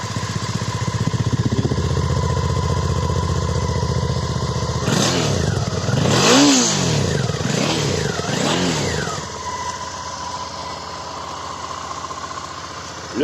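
A 2014 Suzuki DL 650 V-Strom fitted with a GPR stainless exhaust idles steadily, then revs several times in rising and falling sweeps before settling back to idle, loud and close.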